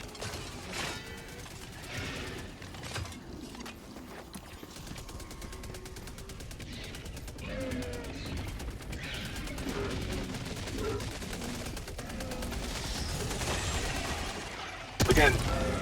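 Sentry turret thrown downrange in Helldivers 2, firing on Terminids: sustained bursts of automatic gunfire mixed with battle clatter throughout, with a sharp loud blast near the end.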